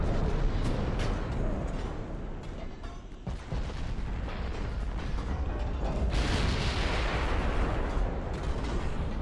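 Naval artillery fires in the Ultimate Admiral: Dreadnoughts game, with heavy booming salvos and rumbling blasts layered in a dense, loud battle din.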